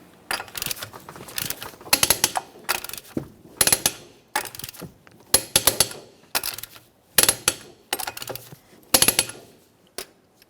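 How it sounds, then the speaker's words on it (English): Wheel lug nuts on a Jeep Patriot torqued in a crisscross pattern after a rear shock and spring swap: repeated sharp ratcheting clicks in bursts about a second apart, close and crisp, with short quiet gaps between and no talking. "Once the wheel's on the ground, we'll be torquing these in a crisscross manner."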